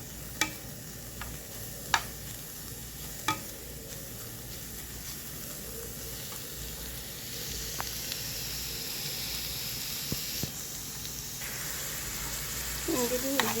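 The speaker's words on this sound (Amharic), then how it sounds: "ሽንኩርትና ነጭ ሽንኩርት ቃሪያ ብሬ ጠብሰዋለሁ" Onion, garlic and chili pepper frying for lentil sambusa, a faint steady sizzle with occasional clicks and scraping taps from stirring, continuing for the whole stretch.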